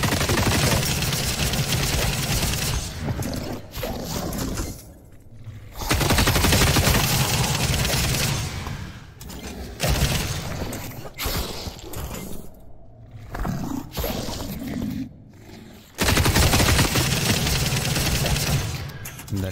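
Sustained automatic gunfire in the sci-fi shooter The Cycle Frontier, long loud bursts of rapid shots with brief pauses between, dense and close.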